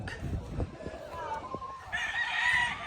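Bull stag gamefowl roosters are heard outdoors: low clucks and scattered knocks come first, then a clear, ringing crow rises in the final second or so, fairly close and moderately loud.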